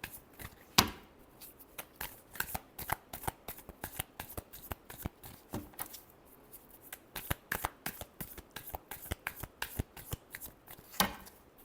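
Tarot cards are shuffled close up in a rapid, crisp stream of papery flicks and riffles, with a few sharper snaps along the way.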